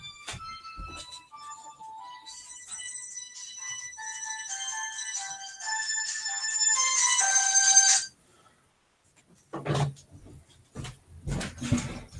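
Melodic electronic phone ringtone from an incoming call, a bright chiming tune of rising tones that plays clearly for about eight seconds before cutting off, followed by scattered faint knocks and handling noise.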